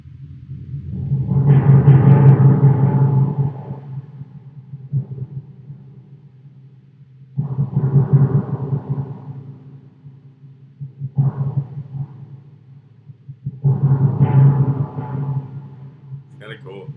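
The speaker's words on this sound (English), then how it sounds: "There's also this timpani." Deep timpani in a Logic music mix, drenched in reverb, swells in four separate booming rolls that build and then fade, each with a long resonant tail.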